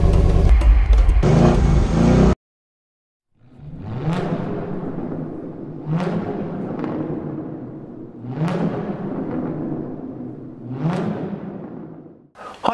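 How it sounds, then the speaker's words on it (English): A 2016 Ford Mustang GT driving off with a low engine rumble that rises and falls through several acceleration surges. After a loud burst at the start and a short silence, it sounds fairly close. "we're going to drive off in the vehicle and we're going to see how far this range works"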